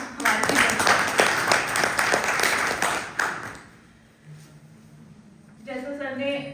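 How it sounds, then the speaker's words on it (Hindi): A burst of audience clapping at a theatre workshop, a dense run of claps for about three seconds that then drops away to a quieter room with some voice. "एक बार जोरदार तालियां हमारे लिए।"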